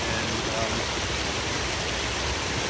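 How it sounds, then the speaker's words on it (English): A flowing stream beside a hiking trail on the Allegheny Trail, a dense, steady rush of water close to the microphone, with no voices. "to the stream, nice flowing water"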